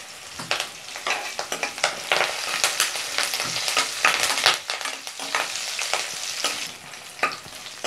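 Onions, dried red chillies and curry leaves sauté in hot oil for a Chettinad egg curry, with repeated clattering spatula strokes against the pan over a continuous sizzle.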